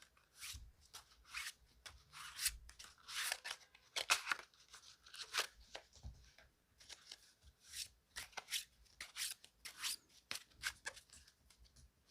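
Tarot cards shuffled and drawn in a close, quiet room, with bursts of riffling and soft sliding rubs coming in irregular clusters over several seconds, no voice.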